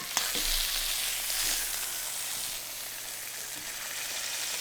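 A steak's fat cap sears on a hot cast iron skillet, giving a steady, close hiss of frying fat with a few faint clicks and no talk.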